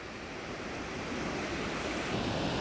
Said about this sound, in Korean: 지금 여기 앉아서 저걸 가만히 보니 파도 소리 들으니까